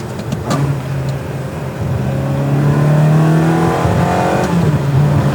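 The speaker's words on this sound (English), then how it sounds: "if you want to downshift, you got to hit the paddle and then blip the throttle to kind of make it work smooth" Ferrari 360 V8 revving under load, rising and falling through a paddle-shift downshift with a throttle blip, heard nearby from inside or beside the car, with a higher rev peak near the end.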